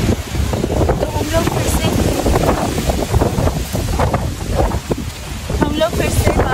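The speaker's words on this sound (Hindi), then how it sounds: "आज बहुत ज़्यादा हवा चल रही है, एकदम तूफान जैसी हवा चल रही है" A strong, stormy wind blows outdoors in Amsterdam, roaring and buffeting the microphone in a loud, continuous, gusty rush.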